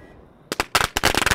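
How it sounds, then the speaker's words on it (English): An XM42 flamethrower fires in a video game, loud crackling bursts starting after a quiet lead-in and repeating in quick succession. "We got this XM42 flamethrower. Let's set some stuff on fire."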